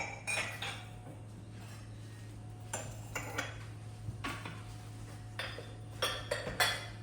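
Brass kitchen utensils clink and clatter as they are lifted out one after another, making sharp metallic knocks in irregular bursts over a quiet room.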